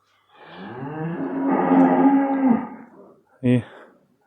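A recently calved cow at a livestock sale gives a long, loud, close moo, followed by a short second bellow after a brief pause.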